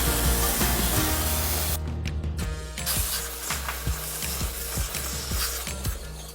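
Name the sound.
spraying water onto mini split coil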